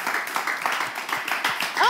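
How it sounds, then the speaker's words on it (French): A room of children applauding a classmate named Elia, a brief patter of hand claps at moderate level, with voices mixed in. "On applaudit, Elia."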